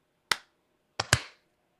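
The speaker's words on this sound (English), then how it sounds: "clap" Three sharp hand claps struck to sync a live-stream recording: one crisp clap, then a pause, then two more in quick succession, close and clean against near silence.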